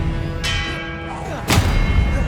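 Expelliarmus spell impacts in Hogwarts Legacy, two sharp bright bursts followed by heavy thuds and ringing, bell-like tones.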